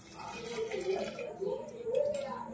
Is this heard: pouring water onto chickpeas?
yes